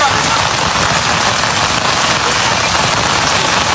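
Heavy rain pours down outside a mosque, a loud, dense and steady hiss with no break across the whole stretch.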